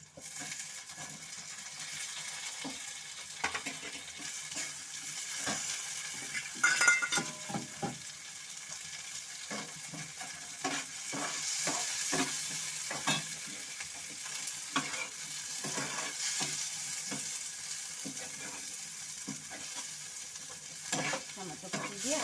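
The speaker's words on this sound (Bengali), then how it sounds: "টমেটো কুচি দিয়ে এখন একটু পেঁয়াজটা সেটা একটু নাড়বো।" Chopped tomato and onion sizzle in a hot pan while a spatula stirs and scrapes them in irregular strokes. The frying sounds close and continuous, with no voices.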